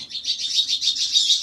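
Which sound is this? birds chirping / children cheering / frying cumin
birds chirping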